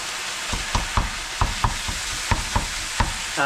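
Bacon fries in a pan ahead of beef mince for a lasagne-style pasta bake, a steady near sizzle broken by repeated scraping stirs every half second or so, with no voices.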